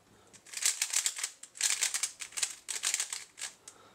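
A textured ON Cube Rubik's cube is twisted and scrambled in quick rattling clicks, coming in bursts of close, bright plastic turning with short pauses between them.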